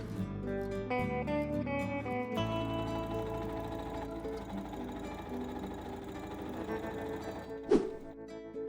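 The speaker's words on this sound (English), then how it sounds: "After applying interfacing around the heart shape in the back, I then sew the lining piece to the back piece." A sewing machine stitches Barbie doll dress pieces, lining to back, in a steady mechanical whir that pauses briefly, then runs on continuously, with a sharp thunk near the end.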